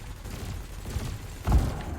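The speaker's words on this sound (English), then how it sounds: "we're going to blow up these blue canisters" Ship cannon fire in the Elite Dangerous space game, heard as a dull low boom over a steady engine hum, one stronger thud near the end.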